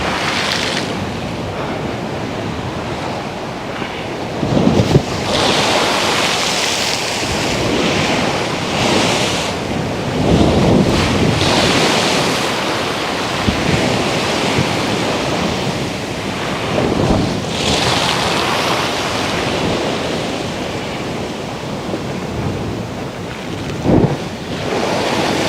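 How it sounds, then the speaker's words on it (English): Rushing river roaring like a waterfall in a quiet park, a loud continuous broadband wash of water with gusty wind noise buffeting the microphone throughout. "Almost like a waterfall, right? A river going on here."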